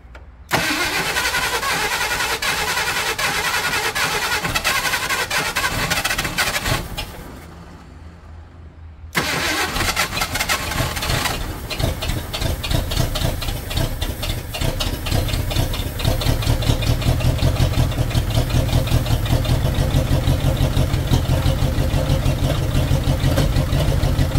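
An abandoned Ford F350 U-Haul rental truck engine cranks, cuts out into a brief silence, then fires and settles into a loud, steady idle that runs on alone without any voices.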